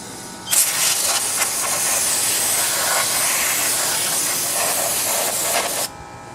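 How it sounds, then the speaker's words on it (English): Steady, loud aerosol cleaner spraying hiss on the carburetor of a Stihl BG50 two-stroke blower, starting abruptly and running for several seconds before cutting off. "I'm just going to spray it down, clean off some of the gunk around the carburetor."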